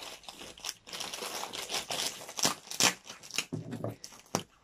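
A parcel of Ivanovo textiles is torn open: close crinkling and crunching of plastic packaging comes in irregular bursts, with a few sharp rips toward the end.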